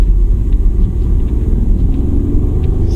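A 2019 Jeep Cherokee Trailhawk crawls off-road in 4Low, held in first gear at walking pace: a steady, close, low engine rumble drones without a break and no one speaks.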